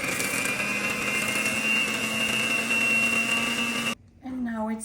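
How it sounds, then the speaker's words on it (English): An electric mixer beats egg yolks with sugar for Polish pączki dough, a loud steady whirring drone that cuts off abruptly near the end before a voice begins speaking. "I was beating my egg yolks with the sugar"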